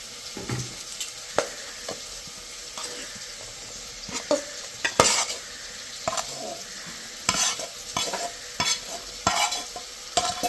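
Tomatoes and potatoes frying in a pan for a vegetable omelette, a steady sizzle broken by repeated sharp scrapes and clinks of a spatula stirring, close and without talk.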